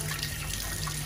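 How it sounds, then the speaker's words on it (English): Tap water runs steadily into a sink as peanuts are rinsed, a continuous close rushing splash with no talk. "I like to rinse my peanuts a little bit"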